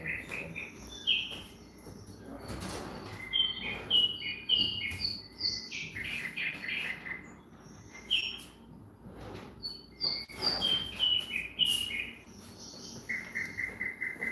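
Small birds chirp and tweet in repeated bright, high-pitched calls and short trills throughout, moderately close, over a steady background hiss with faint insect-like buzzing.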